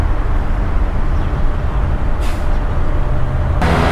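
Busy road traffic with trucks and buses in Thailand near Saraburi, a continuous loud engine and tire roar with brief hissing bursts, likely air brakes, near the middle and end.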